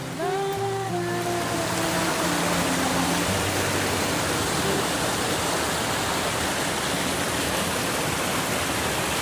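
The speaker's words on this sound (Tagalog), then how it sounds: "tubig kasi syempre ay ang pinanggagalingan po ay napakagandang malaking falls" A large waterfall roars as steady, broadband rushing water, loud and continuous throughout, with a few tonal notes from another source briefly layered over it at the start.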